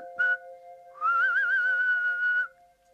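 A person whistles a short note, then holds a longer wavering tone for over a second, close and clear over a steady background hum.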